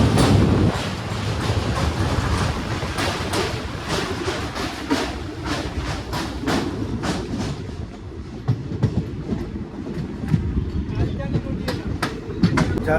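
Kanchankanya Express, the 13150 Alipurduar Junction to Sealdah service, rumbling steadily along the rails with repeated clickety-clack wheel beats throughout, heard from on board, with a voice talking faintly in the background.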